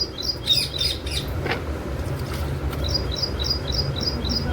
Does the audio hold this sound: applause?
no